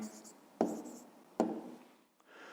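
Pen or pencil writing out a maths answer on paper gives soft scratching strokes with two sharper taps, quiet and close, and the scratching fades out near the end.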